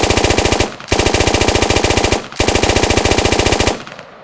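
An M249 machine gun in the Squad video game fires three long, rapid automatic bursts, loud and close, separated by brief pauses.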